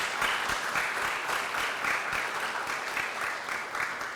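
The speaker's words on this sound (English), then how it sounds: "let's give them a round of applause" An audience gives a round of applause for first-generation college graduates, steady dense clapping that holds at an even level from start to finish.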